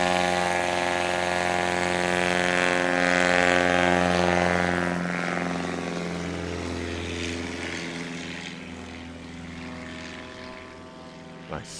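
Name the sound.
STOL airplane taking off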